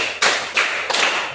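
Three loud, crisp hand claps close up, evenly spaced about a third of a second apart, with no talk.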